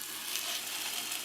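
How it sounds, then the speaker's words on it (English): Steady, close sizzling of a Salisbury steak meat patty frying in a hot pan, a continuous crackling hiss with no talking. "Take your patty, and if you hear the sizzle"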